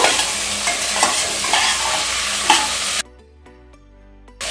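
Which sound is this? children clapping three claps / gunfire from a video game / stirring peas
stirring peas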